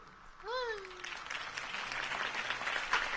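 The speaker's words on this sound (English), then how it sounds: "could have heard that applause" A crowd applauds steadily, broad clapping noise that swells after a brief cheer-like tone and continues throughout.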